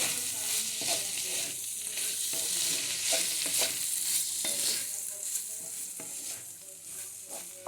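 Chili powder is stirred into spiny gourd frying in a pan, with a steady close sizzle and regular scraping stirs of a spoon throughout.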